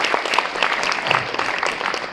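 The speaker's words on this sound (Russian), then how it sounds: "Давайте им похлопаем, поаплодируем." An audience applauds steadily for a couple of seconds, a dense, even patter of many hands clapping at a public talk.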